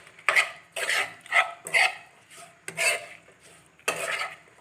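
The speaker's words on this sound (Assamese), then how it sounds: "মই এচামুচ জিৰা পাউডাৰ দিছোঁ আৰু এচামুচ ধনিয়া পাউডাৰ দি আচাৰখিনি ভালদৰে লৰাই দিম" Mango pickle stirred in a pan after a spoonful each of cumin and coriander powder goes in, heard as close, separate scraping strokes of a spoon against the pan with short gaps between them.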